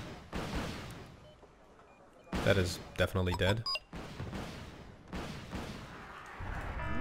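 Explosions and gunfire from the real-time strategy game Wargame: Red Dragon, a burst of loud blasts and crackling shots in the middle, with quieter battle noise around it and someone talking over it.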